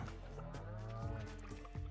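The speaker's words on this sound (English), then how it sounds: "Oh, there were 2 cows there." Cows in a farming video game give a few low, drawn-out moos close by, layered over steady game music with harmonic tones throughout.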